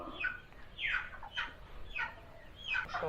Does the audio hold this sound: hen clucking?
yes